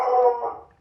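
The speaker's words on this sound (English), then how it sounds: "let me see what my dog's barking at" A dog gives a single drawn-out, howling bark or yelp indoors, fairly loud and close, fading away within a second with no talk over it.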